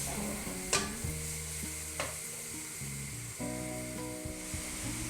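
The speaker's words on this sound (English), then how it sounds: "Adding the onions and begin to saute." Onions sauté in a heated mix of vegetable and olive oil in a pan, giving a soft, continuous sizzle with a couple of brief stirring clicks under louder background music.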